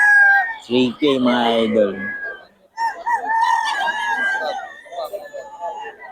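Bullstag roosters crow loudly and close by at a Bocaue market. One long crow stands out clearly, with someone talking over and between the calls and other fowl faintly audible.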